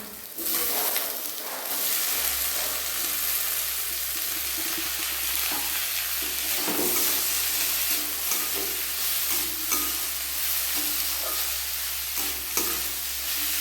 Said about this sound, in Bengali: এবার আমি দিয়ে দিচ্ছি সেদ্ধ করে রাখা আলুটা।